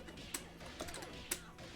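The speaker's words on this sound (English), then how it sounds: "Sam, you're typing things." Someone taps on a computer keyboard in a few scattered, clicky keystrokes at close range, with a faint hum beneath and no voices.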